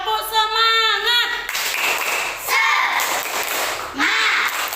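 Schoolchildren in a primary school classroom chant a cheer and clap in bursts, several loud rhythmic hand claps interleaved with children's voices and a sung-out opening phrase.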